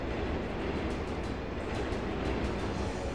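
Subway train rumbling past in the Turok 3 video game, a continuous heavy roar with faint rhythmic clatter of wheels, steady and fairly close with no talk.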